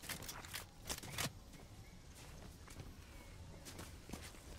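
Footsteps in Fortnite, the video game, land as a quick run of sharp crunching steps at the start, then continue as softer, fainter steps across the rest of the stretch.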